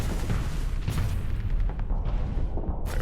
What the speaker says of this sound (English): Wall of flak cannons.